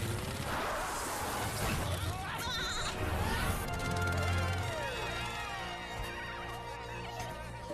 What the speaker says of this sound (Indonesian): Sound berhasil dan para domba mulai keluar dari gubuk itu